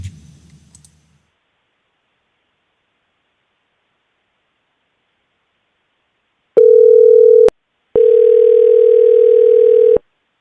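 A brief rustle, silence, then two loud, steady electronic telephone ringing tones from an outgoing call, each lasting a second or more with a short pause between.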